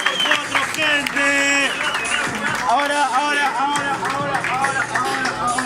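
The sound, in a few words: audience applause at a freestyle rap battle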